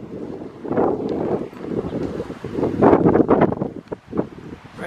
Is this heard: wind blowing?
yes